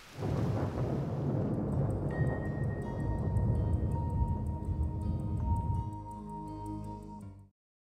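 Thunder in the video game Variable Barricade rumbles low and heavy for several seconds, joined by a steady ticking pulse and sustained tones. The rumble gives way to a short musical phrase that ends abruptly.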